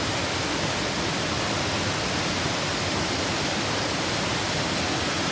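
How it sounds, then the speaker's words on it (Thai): Wang Kan Lueang waterfall pours in a steady, dense roar of falling water that stays loud and unchanging throughout, with no voices. "นี่น้ำตกก็ กำลังสวยครับน้ำก็ไม่ถึงขนาด แรงมากนะครับ"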